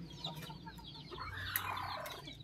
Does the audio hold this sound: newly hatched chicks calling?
yes